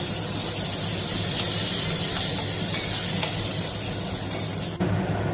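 Pointed gourd (potol) frying in hot oil gives a steady, close, broadband sizzle that holds evenly throughout, with a brief dip near the end.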